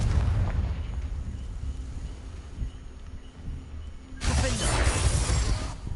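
A Confringo spell explodes in a Harry Potter video game: a sudden, loud, broadband fiery blast that bursts in near the end and sustains as a crackling roar over a low rumbling game background.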